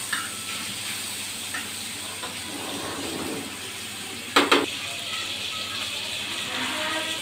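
Hilsa fish pieces frying in hot oil in a pan give a steady, moderately loud sizzle and hiss, with a couple of brief sharp spatters or clinks near the middle.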